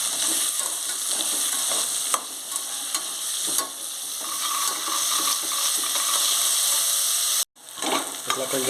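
Green peas stir-frying in a pan for pulao crackle and sizzle loudly and steadily, with repeated scraping stir strokes and a sharp clatter near the end after a brief cut.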